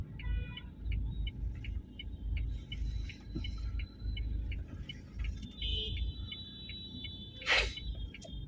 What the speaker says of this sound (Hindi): ट्रैफिक मैं आपको दिखा ही रहा हूँ, ट्रैफिक इज़ सो हाई